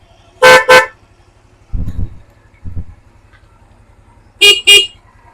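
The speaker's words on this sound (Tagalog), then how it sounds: "Stock horn, loud horn." Two pairs of short, loud double honks from a loud aftermarket horn on a Motorstar Easyride 125 motorcycle, alternating with two softer bursts from the stock horn, over a low electrical buzz.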